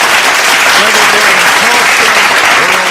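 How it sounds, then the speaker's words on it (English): Audience applause in honour of two community news hosts, a dense steady clapping that fills the whole stretch with faint voices mixed in beneath. "give Charles and Damali a round of applause"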